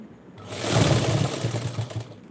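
A home sewing machine whirs into a steady, rapid stitching rhythm after a brief quiet start, running close and fairly loud.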